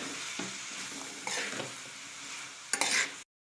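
Tomato pieces being stirred in a curry pan with a bean curry, a continuous oily sizzle broken by a few scraping stirs of a spoon against the pan, close and clear, briefly cutting out at the end.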